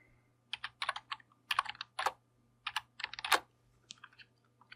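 Fingers typing on a computer keyboard close by, short clusters of quick key clicks separated by brief pauses, over a faint steady background hum.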